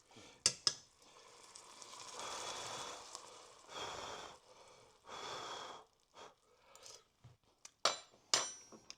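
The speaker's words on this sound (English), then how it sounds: "It is stirring" A wooden spoon stirring risotto rice in a pan, with soft scraping and a wet, gentle sizzle that comes in several separate bursts and is broken by sharper clinks and taps.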